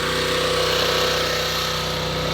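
A gasoline engine on a pressure washer runs after a pull start, choke set, giving a loud, steady close-up drone with a fast regular firing pulse and no talking over it.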